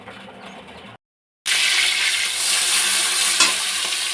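Curry cooking in a pan on a home stove sizzles and fries steadily with loud, bright hissing, broken by a short moment of silence before the frying resumes continuously.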